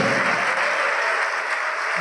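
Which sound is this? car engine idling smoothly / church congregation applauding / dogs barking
church congregation applauding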